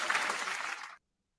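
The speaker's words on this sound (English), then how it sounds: "Round of applause there." A studio audience on a hip hop mixshow breaks into a brief burst of applause that lasts about a second and then cuts off into silence.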